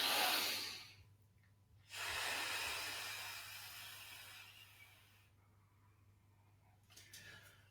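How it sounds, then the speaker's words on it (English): Slow, deep breathing in and out during a shiatsu session, close and airy, with long hissing breaths at the start, around two to five seconds, and again near the end, separated by quieter pauses and no talking. "Breathing in and breathing out."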